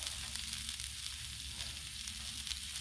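Kielbasa, onions and peppers sizzle on a Blackstone griddle in a dense, continuous crackling fry, steady and close, with no voices.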